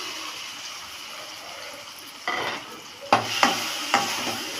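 Crushed turkey berries sauté in a little oil, with a low sizzle and a few distinct scraping stirs that grow louder toward the end.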